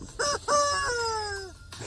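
A chicken gives two short calls followed by a longer drawn-out call that slides downward, close by and clear, in a cool Michigan outdoor setting with no talking.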